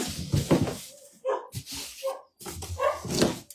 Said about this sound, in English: So you're going to have to excuse the dogs because